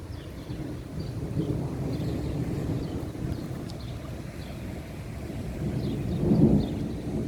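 Thunder from a severe thunderstorm rumbles low and distant, a sustained rolling growl under a wash of wind and rain, swelling briefly near the end.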